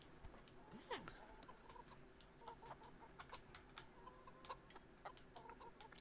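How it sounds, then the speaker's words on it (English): Chickens cluck softly in a medieval village scene in the video game Kingdom Come: Deliverance, repeated short clucks over a faint background with ticking sounds, quiet throughout. "I wonder if you can kick a chicken in this game"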